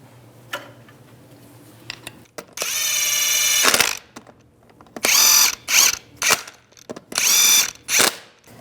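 Impact wrench fastening lug nuts onto a Chevy Trailblazer rear wheel: a long buzzing rattle of about a second, then four shorter bursts spaced apart, loud and close, with clanking between them and no talk.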